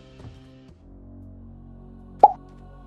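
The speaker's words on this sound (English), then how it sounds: "When a mob dies, it will play a poof sound when the cloud of smoke appears from the mob." A single soft poof pops as a mob dies in modded Minecraft, brief and clear, following faint low game tones.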